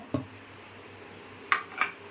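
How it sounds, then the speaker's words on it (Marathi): A metal cooking pot is set down on a stove with a soft clank, followed by two brighter metallic knocks, all fairly close in a quiet kitchen. "टोप ठेवला आहे"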